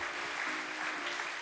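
Audience applause at a Jugend forscht regional science fair award ceremony in Augsburg, a dense, even wash of many hands clapping with no pauses across the brief moment.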